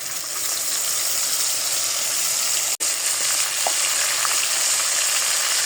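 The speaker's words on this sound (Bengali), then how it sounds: "রেখেছিলাম পেঁয়াজ রসুন আদা কাঁচামরিচ জিরা সেটাই আমি এখন দিয়ে দেবো" Onion, garlic, ginger, green chili and cumin sizzle loudly in a hot pan of oil while cooking Bengali hilsa in mustard paste, a steady close frying hiss with one brief dropout midway.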